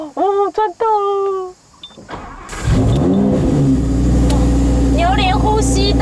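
A Lamborghini Gallardo engine starting in a parking garage, a loud whirring crank then a deep roar that settles into a steady idle, with people talking before it.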